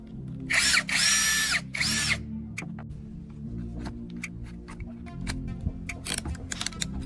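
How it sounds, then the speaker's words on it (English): A cordless drill fitted with a mixing paddle for cement whirs loudly in two bursts of high-pitched spinning at the start, followed by quieter clicks, taps and low handling noise. "Now I install the modified mixer into my cordless drill."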